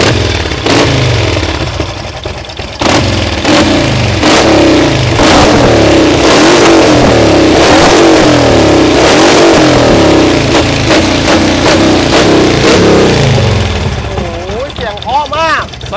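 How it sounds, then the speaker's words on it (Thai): A Harley-Davidson Street Glide engine revs repeatedly in sharp bursts, loud and close, with people talking over it throughout. "ฟังเสียงเครื่องหน่อยไหม"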